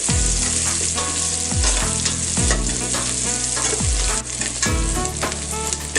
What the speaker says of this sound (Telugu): కొంచెం ఆనియన్స్ లైట్ బ్రౌన్ కలర్ వచ్చే వరకు ఫ్రై చేసుకున్నామండి